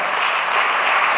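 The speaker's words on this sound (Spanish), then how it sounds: "Un aplauso muy fuerte, por favor." A live audience applauds loudly and steadily, a dense continuous wash of clapping with no voices over it.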